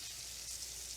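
Food sizzles and crackles steadily in a frying pan, a soft continuous hiss with no talking.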